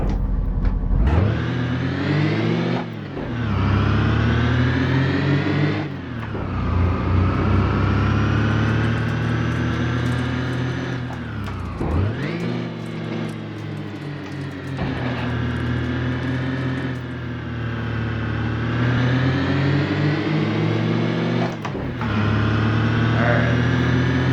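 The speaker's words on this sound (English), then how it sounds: "I am in second gear doing 15" A van engine pulls steadily in second gear at low speed around 15 mph, a loud continuous drone that rises and falls as the throttle changes, with brief dips in between; voices talk over it.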